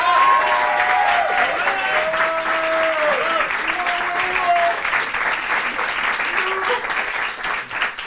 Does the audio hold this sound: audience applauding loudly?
yes